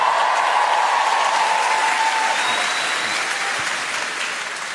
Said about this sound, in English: A lot of cheering from the ladies there.